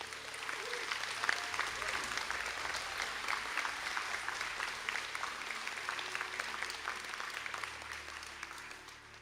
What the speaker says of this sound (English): stand up for a round of applause